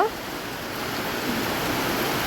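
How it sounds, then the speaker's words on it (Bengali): Rain falls steadily outdoors on the eve of Eid, a soft, even wash of noise throughout with no distinct drops or voices standing out. "দেখেন বৃষ্টি পড়তেছে"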